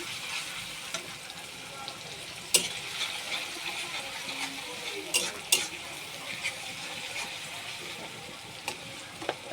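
Onion frying in warm oil while being lightly turned, a soft steady sizzle with occasional spatula scrapes and clinks against the pan, fairly quiet and close.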